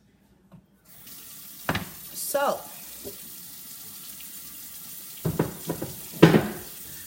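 A kitchen sink tap runs in short bursts, water splashing and gurgling into the basin with clattering between flows, while a voice briefly talks.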